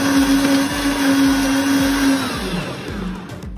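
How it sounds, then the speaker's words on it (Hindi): A countertop blender whirs at max speed through salted caramel coffee, a loud, steady motor drone with a high whine that holds for several seconds before easing slightly at the end. "अभी हम सिंपली इसे ब्लेंड करने वाले हैं मैक्स स्पीड पे"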